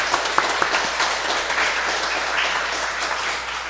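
Congregation applauding in thanks to the pastor at a Korean church's men's fellowship Sunday service, a steady wash of many hands clapping, fairly loud and continuous throughout with no talking.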